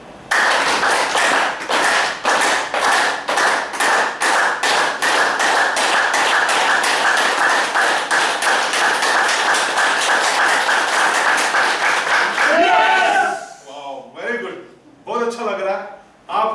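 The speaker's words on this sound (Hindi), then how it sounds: "अभी जो तालियां बजाई कुछ अंतर लग रहा है आपको?" An audience claps in unison, striking fingers of both hands together, starting at a steady rhythm and speeding into a rapid burst of sharp, loud claps before breaking off, followed by someone speaking.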